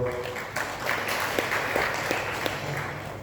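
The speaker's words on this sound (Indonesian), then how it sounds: "Tepuk tangan untuk beliau" Applause from a seated audience at a regional council plenary session approving the 2025 budget policy: a steady, even wash of clapping with a few sharper claps, lasting about three seconds.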